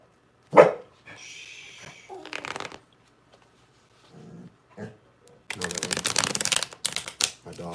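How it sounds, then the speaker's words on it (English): An indoor dog gives a short bark, plus a few fainter ones in the quiet room, set among bursts of card shuffling and a person talking. "My dog's barking."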